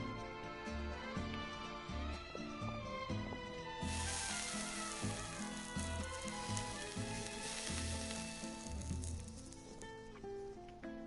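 Mushrooms sizzle in a video game cooking scene: a soft, steady frying hiss that swells noticeably partway through and keeps going beneath looping background music.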